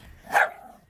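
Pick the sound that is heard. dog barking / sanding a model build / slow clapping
dog barking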